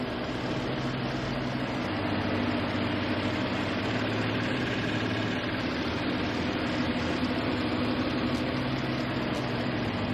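A 2019 Lamborghini Urus engine idles steadily, a low, even rumble with a faint mechanical hum, heard alone and held at a constant level throughout.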